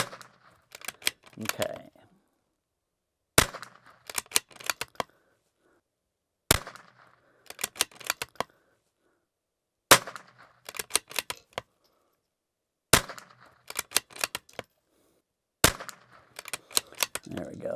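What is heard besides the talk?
rifle with thumbhole stock firing at targets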